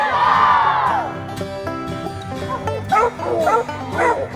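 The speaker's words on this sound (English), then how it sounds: "Hear them baying?" Hunting dogs on a raccoon trail let out long, drawn-out baying howls, then a run of overlapping yelps and bawls, loud and fairly close, with some crowd noise faintly in the background.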